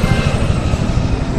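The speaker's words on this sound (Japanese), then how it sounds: "あのヘリを追え" Loud, steady helicopter rotor thrum during a stormy mission near a container ship in Medal of Honor Warfighter, continuous and close with no talk.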